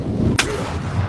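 A single sharp, loud gunshot in the VR game Bonelab cracks once near the start, standing out over low background rumble.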